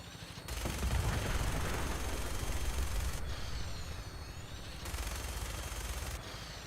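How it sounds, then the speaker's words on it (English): Rapid gunfire in the Fallout 4 video game, dense bursts of shots with rumbling low-end, running loud for several seconds, dropping off briefly, then resuming at a slightly lower level. "Shooting at me."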